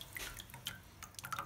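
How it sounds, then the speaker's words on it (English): Water dripping off a wet sheet of recycled paper pulp, several faint irregular drips and small splashes at close range, with no talking. "you want to let all of the water drip off"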